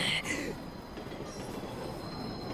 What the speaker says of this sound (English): And then I heard the sound of the train coming in above me as if it was mocking me.